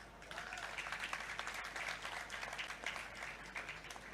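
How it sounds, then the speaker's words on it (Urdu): Steady applause from daughters seated in the audience at a Pakistani political party's vision document launch speech, faint and distant, continuous light clapping throughout with a murmur of voices. "یہ میری بیٹیاں بیٹھی ہیں، وہ تالیاں بجا رہی ہیں"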